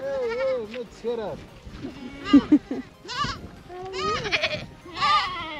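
Goats on a farm bleating close by, several wavering calls in quick succession with short pauses between, while people talk over and between the animals.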